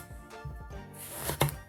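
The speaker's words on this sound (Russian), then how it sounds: "И нарезаем баклажаны колечками." A knife slices eggplant into rings, cutting through soft flesh with a few separate thunks on a board, moderately close and quiet, no speech.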